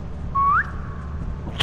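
A single loud whistle rises sharply in pitch, then trails off in a faint tail, heard during a session of the video game Lethal Company over a low rumbling background.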